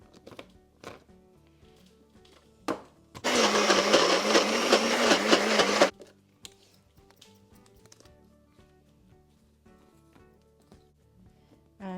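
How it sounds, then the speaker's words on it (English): A blender whirs loudly for about three seconds, blending basil pesto with a pinch of salt and extra virgin olive oil, set between quiet kitchen clicks and taps before and after. "And then I just blend it."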